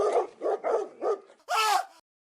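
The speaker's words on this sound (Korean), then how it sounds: "그 두 마리의 개들은 마치 상이라도 한 것처럼 갑자기 조씨에게로 고개를 돌려 핏대를 세우고는 입을 크게 벌리고 짖어대면서 덤벼들었다." Two dogs bark in an agitated, snappy burst of four or five quick barks close by, ending in a higher whining yelp, with no talk over them.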